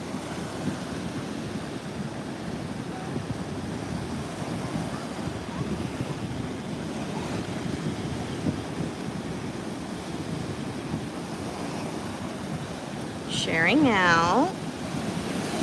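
Waves wash onto a beach in a steady broadband rush, with wind buffeting the microphone throughout; a person speaks briefly and a higher voice exclaims near the end.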